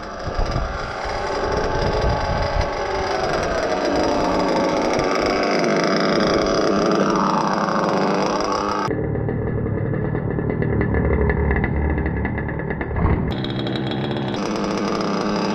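A TLR 8ight XT nitro RC buggy engine runs with a loud, steady high-pitched buzz, then drops abruptly to a lower, continuous idle, close up with no voices.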